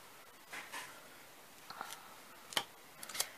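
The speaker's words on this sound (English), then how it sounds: "Let me get my scissors here." A few quick, crisp snips of scissors cutting paper near by, scattered over a quiet background with light handling noise between cuts.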